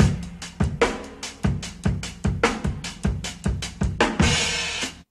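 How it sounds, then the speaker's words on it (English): A breakbeat drum loop plays at its original tempo and pitch, punchy kicks and snares hitting in a steady syncopated rhythm with a crash-like burst near the end, loud and alone. "this is basically how it looks in its original tempo"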